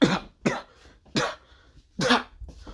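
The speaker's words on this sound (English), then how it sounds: "he's coughing up blood" Four harsh, separate coughs spaced about half a second apart, close and fairly loud, with quiet gaps between them.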